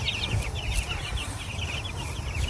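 Young Cornish Cross chickens cluck and chirp in a steady chatter close by, with soft, constant low rumble beneath the birds.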